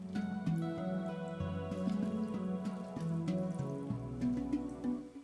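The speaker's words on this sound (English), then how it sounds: "I pour some bone broth over the meat to prevent it from drying out" Bone broth poured over beef ribs, a soft continuous trickle and drip of liquid onto meat, faint and close, with a low background hum.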